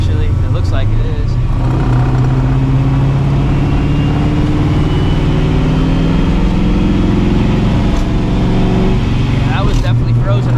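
Supercharged New Edge Ford Mustang cruising at speed on a frozen road, its engine droning loud and steady under road and tire roar throughout, with a voice speaking over it.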